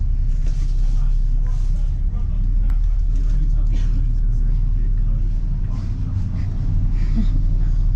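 Inside a London double-decker bus on the move, a heavy low engine rumble and road noise run steadily and loudly, with faint cabin clatter layered over the drone.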